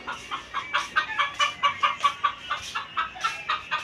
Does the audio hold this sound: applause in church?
no